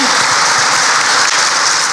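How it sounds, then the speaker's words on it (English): Audience applause fills a tech showcase event hall, a steady dense wash of many hands clapping at close range for the full two seconds without a break. "let's give a warm round of applause"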